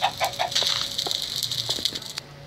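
Chickens clucking in a Minecraft PE village, a run of short repeated game clucks and squawks with no talk.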